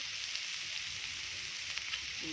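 Chopped onion and tomato sauté in a pan with a soft, continuous sizzle, close and even, with a few faint stirring ticks and no voices.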